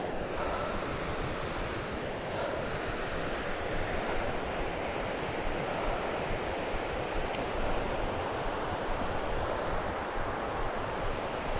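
A waterfall rushing in the mountains during a hike at Abuji Cuo, a steady, dense roar of falling water with a windy wash, continuous and fairly loud, with no voices.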